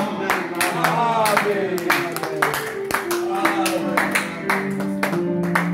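A church congregation claps steadily in rhythm, loud and close, mixed with singing and voices over a sustained musical tone.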